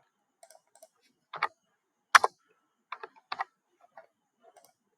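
Scattered keystrokes sound on a computer keyboard while marks are entered into an online counselling form. The quiet, close clicks come singly and in short pairs, with pauses in between and no talk.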